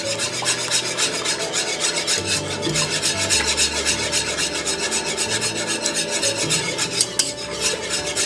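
A whisk beating cream into the sauce for a blanquette de veau, a fast, continuous rhythmic scraping and rasping against the pot, close and loud throughout with no voices.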